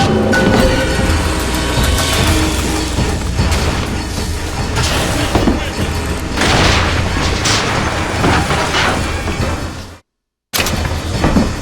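Rockets explode in BioShock Infinite, loud booming blasts with crashing debris layered over a dense, constant battle din, cut by a short total dropout of sound near the end.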